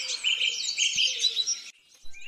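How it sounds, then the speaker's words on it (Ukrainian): Birds sing in a busy run of bright chirps and trills close by, then break off abruptly, leaving a few faint calls. "Тепер тіні зникли і пташки знов заспівали, як раніше."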